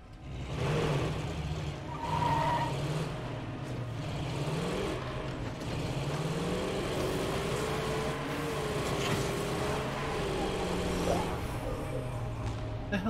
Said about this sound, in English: Let's drive home because, well, it's really needed to drive home.